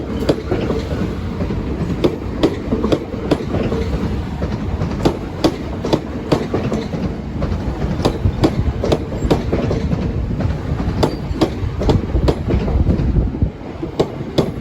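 A train rolls past a level crossing at Deal, its wheels clattering in a steady clickety-clack rhythm of repeated sharp knocks over the rails, loud and close throughout.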